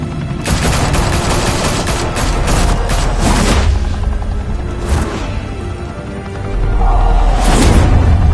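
Heavy gunfire in a Batman video game set in Gotham, with loud rapid volleys and machine-gun bursts crackling almost without pause, plus booming impacts swelling toward the end.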